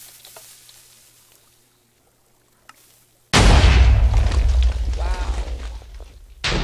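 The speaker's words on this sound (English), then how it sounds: "this is a pistonless hybrid cannon" A pistonless hybrid cannon fires with a sudden loud blast after a quiet stretch, the roar sustaining for about three seconds with a faint voice mixed in, then a second burst right at the end.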